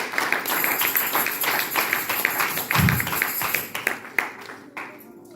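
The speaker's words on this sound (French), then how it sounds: "Nous acclamons pour la gloire du Seigneur." A church congregation clapping and cheering in praise, a steady mass of applause with scattered taps and voices mixed in, fading out near the end.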